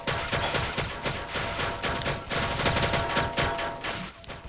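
Rapid gunfire rings out during a hostage scene in a French police role-play video game, with dense bursts of automatic shots and repeated cracks packed closely together, loud and continuous over several seconds, with no voices.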